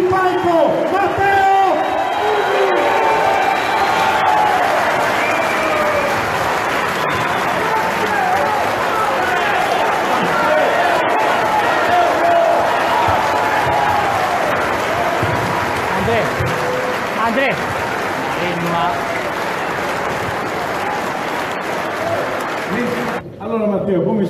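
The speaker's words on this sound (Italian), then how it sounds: "Un grande applauso, chiamatelo sul palco, Matteo." A large crowd at a political rally cheers and applauds as a speaker is called on stage, a dense, loud roar of clapping and shouting that keeps going with voices mixed in.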